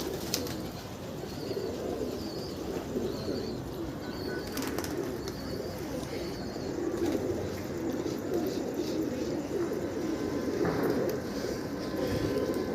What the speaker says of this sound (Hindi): ये आए भाई 7, काउंट कर सकते हैं भाई 7 कबूतर